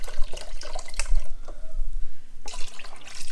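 Chicken broth is poured into a pot for lasagna soup, making a splashing, gurgling liquid sound that runs steadily, eases off in the middle and then surges again near the end.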